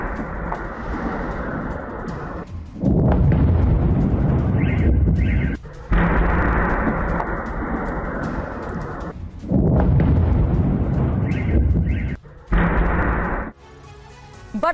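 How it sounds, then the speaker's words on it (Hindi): Drone attack explosions over residential areas of Kursk come as a series of loud, heavy booming rumbles, each sustained for a few seconds and separated by abrupt short gaps. "एक के बाद एक धमाके।"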